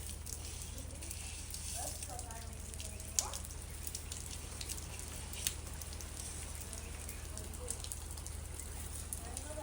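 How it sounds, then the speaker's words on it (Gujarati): Steady hiss of rain falling, with occasional drips and soft patters against a constant low hum. "વરસાદે ખૂબ આવે છે"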